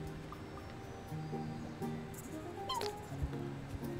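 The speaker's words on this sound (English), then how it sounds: "A cat!" A cat meows in the video game Chicory, a short bright call rising over a steady ambient music bed with soft game tones throughout.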